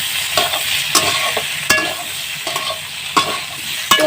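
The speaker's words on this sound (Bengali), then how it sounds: "সেগুলো আমি দিয়ে দেবো। তো দিয়ে এটা নেড়ে চেড়ে দেবো।" Ginger and cumin paste is stirred into a sizzling soybean curry, with loud, close scraping strokes of a spatula against the pan repeating every half second or so over constant frying.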